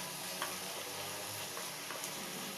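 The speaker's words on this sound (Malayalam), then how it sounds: "ഫ്രൈ ചെയ്ത് വെച്ചിരിക്കുന്ന തോഫു ഇതിലേക്ക് ചേർത്ത് സോസുമായി നല്ലതുപോലെ മിക്സ് ചെയ്യുക." Fried tofu being stirred into a sauce in a pan gives a soft, steady sizzle with light scraping and stirring sounds, fairly quiet and close, with no talking.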